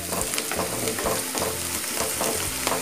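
Onions and garlic sauté in hot oil for a brinjal gravy, crackling and sizzling close up with a spoon stirring through them in a loose rhythm and no talking.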